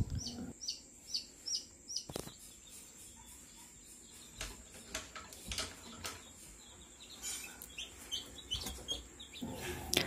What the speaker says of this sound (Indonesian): ini adalah ayam kampung asli yang berhasil menetas sempurna